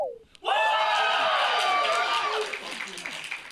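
A live audience bursts into sustained cheering and whooping after a brief quiet gap, loud and close, tapering over a few seconds, with scattered clapping underneath.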